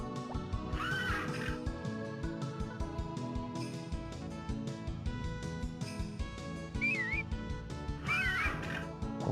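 Horse neighing in the Harvest Moon: Back to Nature video game, a few short whinnies over continuous loud game music.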